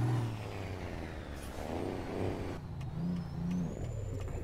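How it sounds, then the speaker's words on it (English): A Western Star 4900FA truck engine in American Truck Simulator hums smoothly at a steady low rumble, rising and falling slightly as it revs, with a brief hiss partway through. "I do really like this engine. I've got it, well, I drive it in most of the trucks in this game"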